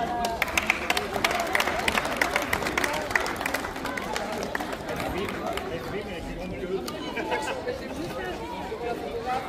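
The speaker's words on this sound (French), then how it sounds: "Et on peut les applaudir." Spectators at a youth under-11 football final and awards ceremony applaud a runner-up club, a dense sustained wash of clapping and crowd murmur across the whole stretch, with a voice over the babble.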